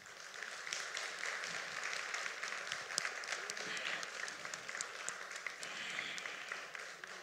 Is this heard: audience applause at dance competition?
yes